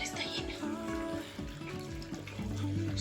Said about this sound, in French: je vais commencer par laver mes pinceaux du coup pendant que je suis dans le bain